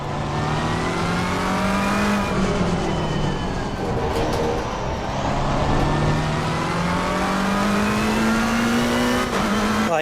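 A McLaren race car engine roars in Assetto Corsa Competizione at Silverstone, revving steadily up and down through gears for the whole stretch, loud and close with no talk over it.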